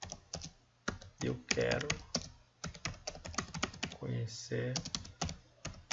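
Computer keyboard keys typed in quick irregular bursts at close range, mixed with someone talking in Portuguese over most of it.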